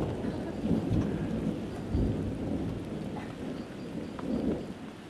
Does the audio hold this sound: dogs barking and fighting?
no